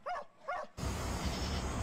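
Two sharp barks from dogs rescued from deplorable conditions, loud and close, followed by a continuous wash of broadband noise.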